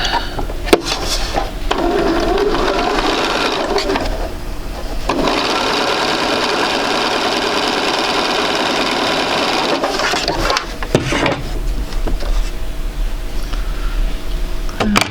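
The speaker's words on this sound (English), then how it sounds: "Get my edges right together and go ahead and sew that." A sewing machine stitching quilt pieces together, running in a continuous loud mechanical whir with brief pauses and clacks near the start and end, no voice over it.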